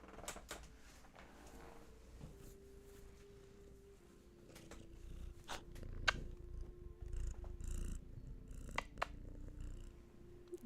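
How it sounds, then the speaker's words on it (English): Hattie the cat purrs softly nearby, a faint low rumble running beneath scattered clicks and small handling taps in a quiet room. "Yeah, a little bit of purr from Hattie."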